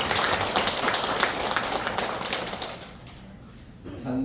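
A church congregation claps together in a warm burst of applause that fades out after a few seconds, followed by quieter room sound.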